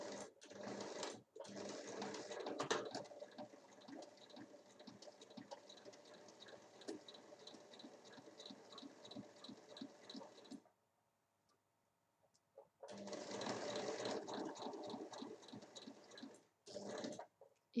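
A sewing machine stitching fabric along a fold, a fast rapid-fire rattle of needle strokes in two long bursts separated by a short pause, close and fairly quiet.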